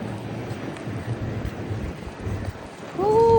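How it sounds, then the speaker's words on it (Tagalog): Wind gusting at sea from a boat, a steady roaring rush buffeting the microphone throughout and swelling louder near the end, with no talk. "Hangin."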